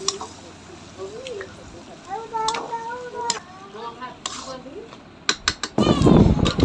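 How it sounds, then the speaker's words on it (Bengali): Mutton stirred with homemade yogurt in a cooking pot, a spoon scraping and clinking against the metal sides in irregular strokes, with a soft sizzle underneath and a loud burst of frying near the end; someone talks over it. "এবার ভালো করে নাড়াতে থাকবো যতক্ষণ পর্যন্ত না মাংসের গা থেকে তেল বেরোয়।"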